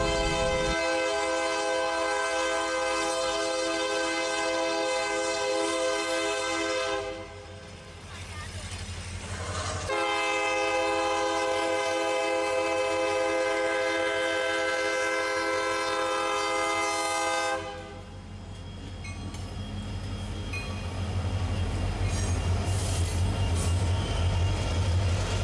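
A Union Pacific manifest freight train passes close by, its horn blasting long sustained tones in two sounding stretches over a steady rumble of rolling cars that stays loud throughout.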